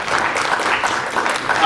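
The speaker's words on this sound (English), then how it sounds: "Let's give Cleo a huge round of applause." Audience applause at a film festival Q&A, a dense, steady wash of many hands clapping close and loud throughout, with no voices over it.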